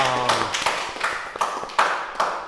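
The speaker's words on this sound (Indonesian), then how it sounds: "Tepuk tangan dulu dong." Scattered clapping from a small audience at a talk-show style event, uneven close hand claps and taps over a faint low hum, with a brief voice at the start.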